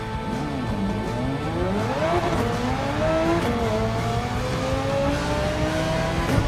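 Touring race car in a racing video game spinning in circles at the High Speed Ring, engine whining and rising in pitch under continuous tire and road noise, steady and loud throughout.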